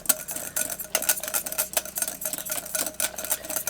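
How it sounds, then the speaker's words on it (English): A whisk clicks and scrapes rapidly against a pan as a thickening mixture for turkey croquettes is stirred, a fairly quiet, close, irregular metallic tapping with no speech. "I'm checking it every 30 seconds to whisk it up"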